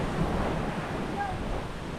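Strong wind at sea roars as a steady, loud, broadband rush, with surf and wind buffeting the microphone throughout.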